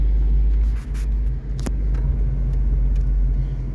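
A car being driven with a steady, loud low engine rumble and road drone from inside the cabin, dipping briefly twice as gears change, with light clicks above it.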